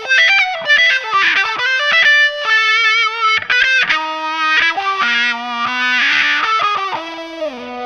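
Electric guitar through a Roland Double Beat AD-50 fuzz-wah pedal, playing a fuzzy melodic solo line with sweeping wah tone, notes bending and sliding continuously at steady moderate loudness.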